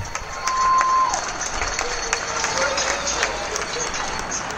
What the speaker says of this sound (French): les gens se réunissent à leur balcon pour les applaudir.